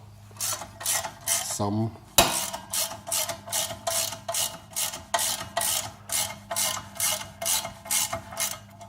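A 9/16 socket on a ratchet tightening the tensioner of a John Deere tractor implement. Close, repeated rasping clicks come in an even rhythm of about two strokes a second, with a brief word spoken early on.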